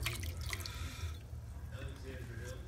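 Red wine is poured into a pot of pasta with monkfish, spinach and garlic, a soft liquid trickle and drips under low kitchen noise and some background murmur.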